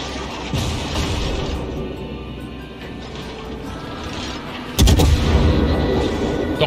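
Steady mechanical rumble and clatter, then a sudden heavy boom of a naval gun salvo from a Myoko cruiser in World of Warships near the end, loud and close, with no talking.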